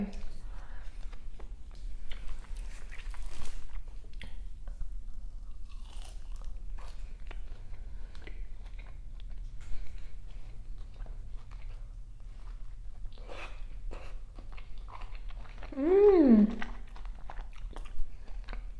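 Roasted tomato eaten during a mukbang of Lebanese steak kabob and baba ganoush, with close, moist bites and chewing scattered through a quiet room and a brief vocal sound near the end.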